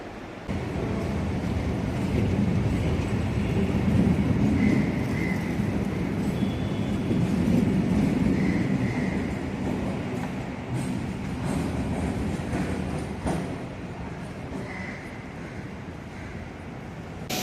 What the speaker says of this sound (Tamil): அடுத்ததாக இந்த ட்ரெயின் சென்னை பீச்லேருந்து வருதுங்க.